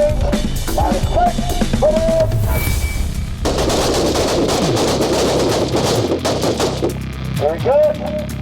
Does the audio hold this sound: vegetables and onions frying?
no